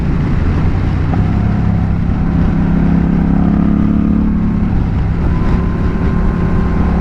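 A Honda Rebel 1100 motorcycle engine drones loud and close, its pitch and rumble shifting as the rider downshifts, with steady wind roar over the ride.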